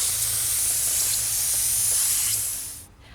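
A paint sprayer run off a portable air compressor gives a loud, steady hiss of spray for nearly three seconds, then cuts off abruptly into quiet.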